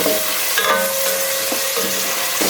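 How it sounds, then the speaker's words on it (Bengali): Whole spices frying in oil: a cinnamon stick, seven or eight peppercorns, two bay leaves and four green chillies, for a home chicken dish. A steady close sizzle runs throughout, with a few light stirring clinks and no talk. "1টা দারুচিনি, আর 7-8টা হলো গোলমরিচ, 2টা তেজপাতা, আর 4টা কাঁচামরিচ একসাথে দিয়ে এটাকে ভাজবো"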